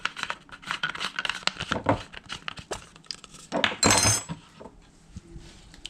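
Spices and vanilla being mixed into Jamaican fruit cake batter in a bowl: a steady run of close scraping, tapping and clinking strokes, with one louder crinkly burst near the end and no talking.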